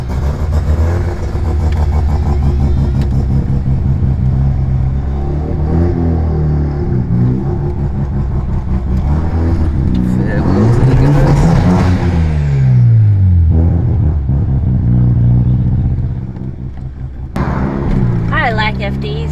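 Mazda RX-7 FD cars with pop-up headlights rev loudly nearby, engine notes rising and falling in repeated sweeping pulls over a continuous rumble, with people talking throughout.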